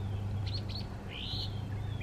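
Birds chirp outdoors on a mild fall day, a few short bright calls and one longer rising note over steady low background hum, moderately near.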